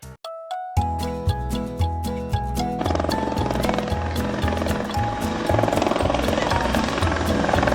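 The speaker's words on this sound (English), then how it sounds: "military helicopter" A military helicopter with a steady, rhythmic rotor thump that holds at a constant level for several seconds, mixed with tonal background music.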